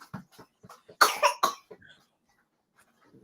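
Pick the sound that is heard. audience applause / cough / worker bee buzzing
cough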